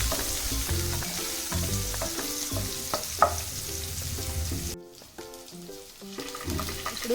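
Curry leaves fry in hot oil for carrot rice, giving a loud, close, crackling sizzle with irregular pops and stirring scrapes. The sizzle drops off sharply near the end, then builds again.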